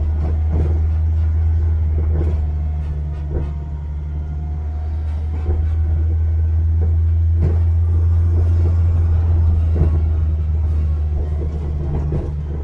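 A 1948 Crosley car engine runs steadily with a strong low rumble while driving, a few faint knocks and bumps scattered over the constant drone, with no talk.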